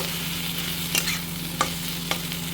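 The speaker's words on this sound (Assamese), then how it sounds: "এতিয়া অলপমান লৰাই দিম।" Fish curry with ginger sizzles in a pan under a constant frying hiss, while a utensil scrapes through it three times at a steady pace.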